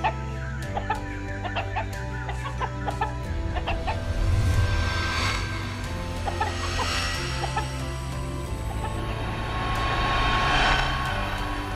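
Chickens belonging to a king cluck and crow in a palace courtyard, with repeated short calls over a steady low background hum and no talking.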